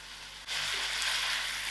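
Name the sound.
grated tomato sizzling as it is added to the frying pan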